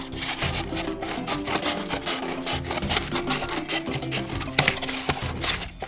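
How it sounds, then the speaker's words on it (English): Rasping, rubbing strokes of trimming the side off a homemade wooden mancala board, a steady close run of filing or sawing friction with a couple of sharper knocks near the end, no talking. "We're just going to trim off the side here."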